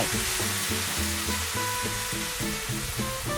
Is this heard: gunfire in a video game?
no